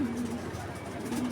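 Racing pigeons coo close by in a low, droning purr that carries through the moment, with faint background murmur around the loft.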